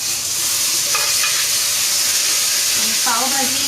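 Pav bhaji being stirred and mixed in a pan, a steady broadband sizzle throughout with a couple of faint scraping strokes; no talk.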